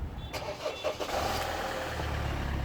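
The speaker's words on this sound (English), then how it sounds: "I'll just start the engine up here" A car with about 120,000 km on it cranks briefly and then fires up, settling into a steady low idle rumble that is close and moderately loud with no talking.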